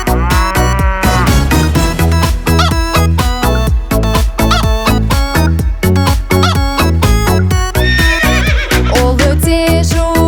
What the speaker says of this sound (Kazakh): Жылқылар сөйлейді иго-го